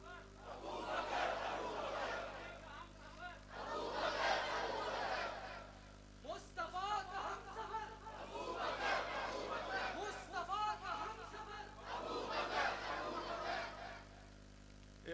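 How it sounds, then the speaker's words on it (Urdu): A crowd at a religious gathering chants a slogan in repeated loud bursts, several rounds of massed voices rising and falling over about fifteen seconds, with a steady low hum underneath. "آپ یہ نعرہ لگاؤ بھائی."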